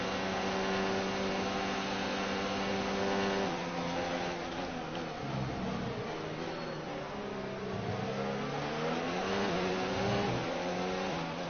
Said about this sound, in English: let's turn up the engine now